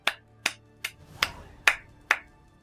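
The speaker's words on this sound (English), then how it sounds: "I don't know why I felt like giving myself a round of applause there." Six sharp, distinct hand claps ring out close and alone, evenly spaced about half a second apart, as a man gives himself a short round of applause.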